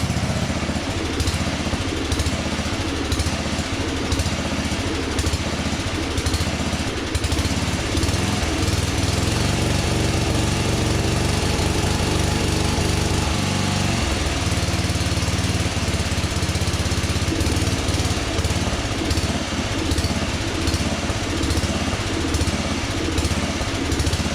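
A 40-year-old barn-find LongLife lawn tractor engine runs continuously, loud and close, with a steady rough small-engine chug and rattle throughout and no talk over it.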